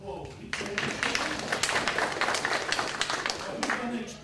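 An audience at a public forum applauds a speaker, steady clapping from a gathered crowd starting after a brief pause and carrying on with voices mixed in underneath.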